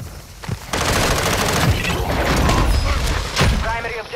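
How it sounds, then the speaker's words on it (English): Mortar strike explosions and gunfire in a first-person shooter video game, with dense continuous crackling shots and heavy booming impacts, loud and close, under occasional voices. "Our mortar strike is inbound."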